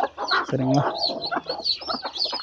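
Brooding hen clucking over a clutch of eggs, a few close, throaty clucks and a short drawn-out call, with someone talking briefly alongside.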